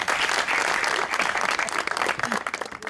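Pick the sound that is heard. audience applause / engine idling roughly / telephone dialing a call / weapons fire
audience applause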